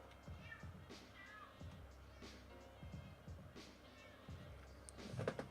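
A little cat meows repeatedly indoors, several short faint cries spaced a second or so apart over a low background hum, with a louder rustle at the end.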